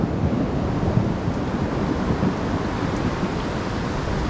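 Falling water from a small waterfall on the Mendocino Coast, mixed with ocean surf, gives a steady, dense broadband rush that holds at a constant level throughout with no voices.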